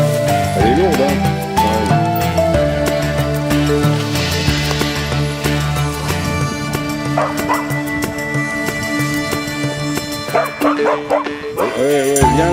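A dog on a countryside outing yips, barks and whimpers repeatedly at close range, its calls rising over background music and occasional talk.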